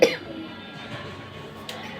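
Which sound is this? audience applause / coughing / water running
coughing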